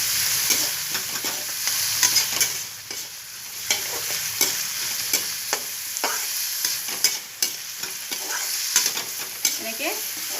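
Vegetables for chowmein stir-fried in a pan, with a continuous sizzle and repeated scraping strokes of a spatula in an uneven rhythm, close and fairly loud, with no talking.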